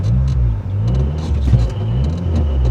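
A 2003 Dodge Neon SRT-4 engine pulls steadily in fifth gear, a loud, continuous low drone with rising and falling harmonics and a slight whir, heard from inside the car with no talking.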